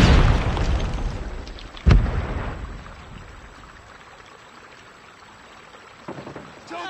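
A frag grenade blast in Call of Duty Mobile: a loud booming explosion at the start, a second sharp bang shortly after, then a long fading rumble and a few faint later pops.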